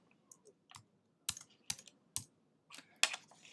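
Someone types on a computer keyboard, sounding as a handful of sharp, irregular key clicks. A few soft taps give way to firmer strokes in a quiet room.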